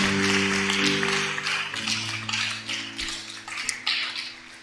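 A church congregation applauds during a Sunday service, a steady, dense wash of clapping that carries on throughout with sustained musical tones beneath it.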